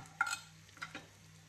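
Zucchini and onion sautéing in a pan over high heat, with a soft steady sizzle under brief scraping stirs and light utensil clinks, heard close.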